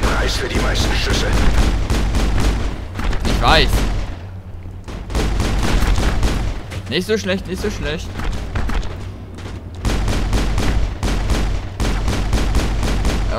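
Gunfire in the video game Mass Effect rattles in repeated bursts of rapid shots with pauses between them, loud and close, while someone talks over parts of it.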